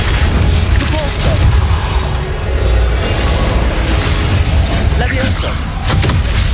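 Repeated Capulso force-spell blasts burst out in Hogwarts Legacy, loud booming pops and crashes in quick succession over busy game noise, with a voice talking over them.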